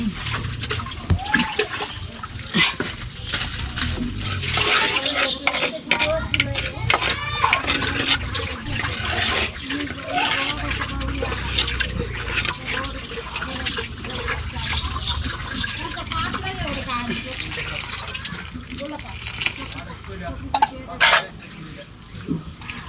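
Chilies are washed and water is poured during traditional tribal outdoor cooking in Gudalur, Nilgiri, with splashing and running liquid heard under ongoing conversation and a steady background hum.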